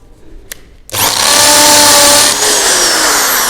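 A power drill switched to hammer mode, the kind used for boring holes in concrete or walls, starts after a faint click and runs loud and close with a steady high-pitched whine and rapid hammering rattle, and no talking.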